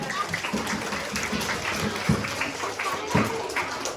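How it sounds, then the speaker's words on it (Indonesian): A classroom of fifth-grade school students claps together in a dense, steady burst of applause, with a few louder claps standing out near the front. "Tepuk tangan."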